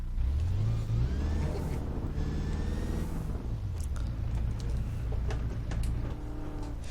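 A Bugatti EB110SS accelerates hard in the racing game Test Drive Unlimited 2, its engine note climbing through several gear changes in a continuous, loud roar.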